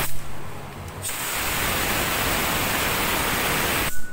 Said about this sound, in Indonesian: Jadi kita semprot pakai kompresor lewat sini